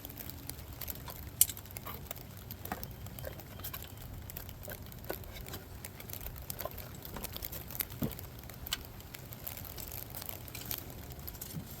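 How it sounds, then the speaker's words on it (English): Steady, soft patter of rain falling outdoors onto an Acura RSX, with scattered light drips and taps over a continuous hiss. "It's raining."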